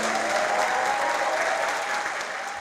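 Dense applause from a packed audience in the Joinville city council chamber as Silvano Silva arrives, loud and continuous throughout.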